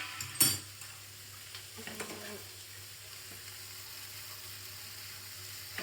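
Honey chicken stir-fries in a pan over high flame with a steady close sizzle, while a few sharp spatula clanks and scrapes near the start fade into the continuous frying hiss.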